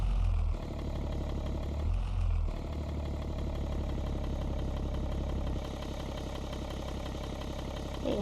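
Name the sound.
car engine idling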